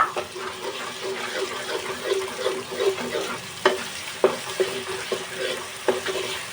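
Ginger, garlic and tomato gravy tipped into a hot pan for egg tikka masala, sizzling steadily with stirring scrapes and a few sharp clinks of the spoon against the pan.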